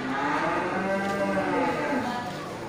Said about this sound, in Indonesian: Sapi indukan sebelum kita review untuk sapi Aceh jantan.